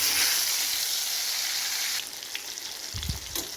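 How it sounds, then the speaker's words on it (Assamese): Pointed gourd and potato sizzle loudly in hot oil for an Assamese fish curry, a bright frying hiss that settles lower partway through, with a few light knocks of the pan or spoon. "তেলটো গৰম হৈ গৈছে। ইয়াত এতিয়া পটল আৰু আলুটো দি দিম।"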